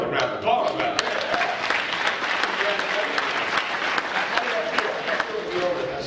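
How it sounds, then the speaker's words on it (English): A crowd claps steadily throughout, a dense wash of applause at a constant level, with voices faintly mixed in. "that's worth a round of applause about that"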